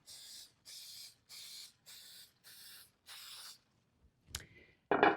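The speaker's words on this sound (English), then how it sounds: "And so you're just going to spray these pans." Six even bursts of cooking spray hiss onto loaf pans in a steady rhythm, close and soft, followed by a couple of light clicks and a brief scrape.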